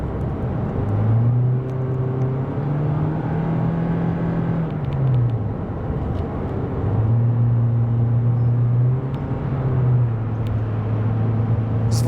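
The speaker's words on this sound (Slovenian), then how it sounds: "Tako je slišati blago dinamična vožnja." A 2022 Toyota Corolla Cross hybrid drives in a mildly dynamic way, its engine and motor holding a steady droning hum that rises and falls in pitch a few times under a constant road rumble.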